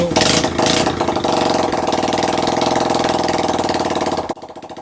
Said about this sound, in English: Now that the engine's running and it sounds almost new